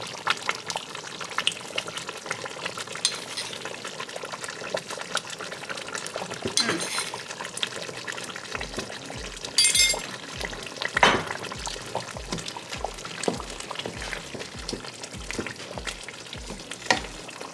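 Thick banga palm-nut soup bubbling and simmering in a pot as crayfish goes in, with a steady sizzle, faint scraping and clinking of a spoon, and a soft, regular low thumping in the latter half.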